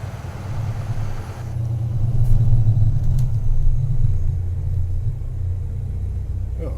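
A 10-speed truck hauling a long trailer labors in a low gear, its deep engine rumble steady and loud inside the cab and swelling slightly as it pulls, with no talk.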